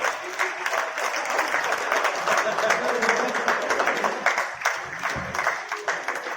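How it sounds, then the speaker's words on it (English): Crowd applauding for the winning team's representative at the inauguration of an advocates' premier league, a steady room-filling clapping that carries on throughout, with a few louder claps near the end. "Please have a huge round of applause."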